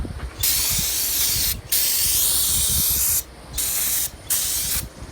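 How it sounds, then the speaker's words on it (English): Aerosol carburetor cleaner hisses loudly in several long bursts separated by brief pauses, sprayed close up around a leaking valve cover on a Cub Cadet RZT L 54 mower, with no voices. "So we're going to spray all around it with carburetor cleaner to cut this dirt loose"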